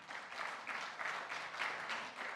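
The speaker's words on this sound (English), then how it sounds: "Give yourselves a round of applause for coming back." A summit audience claps together in a round of applause, a broad sustained patter with gently swelling pulses, fairly close and steady throughout.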